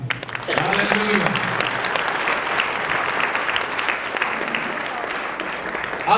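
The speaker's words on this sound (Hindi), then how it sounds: "प्रभु यीशु मसीह की महिमा के लिए जोरदार तालियां" Congregation applause at a Christian revival convention, loud sustained clapping from a crowd, with a voice briefly heard over it at the start.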